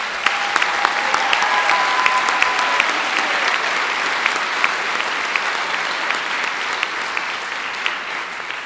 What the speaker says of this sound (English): So a huge round of applause to the 4 of them.